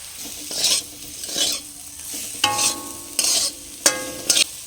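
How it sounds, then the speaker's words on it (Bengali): Sliced bitter gourd fries in oil with turmeric and salt in a pan, with soft sizzling broken by several separate scraping stirs, a few of them sharper and louder near the end. "লো ফ্লেমে চাপা দিয়ে ভেজে নেবো উচ্ছেটা"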